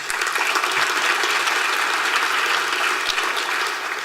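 Dense, sustained applause from a large convocation crowd, steady and loud throughout, with no voices standing out.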